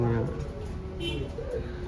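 A racing pigeon coos softly a few times while someone talks over it nearby.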